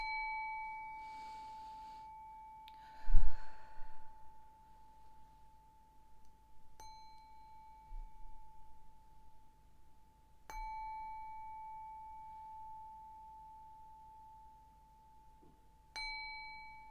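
A resonant bell rings out several times at spaced intervals, each strike sustaining a long, shimmering tone that slowly fades in a quiet room.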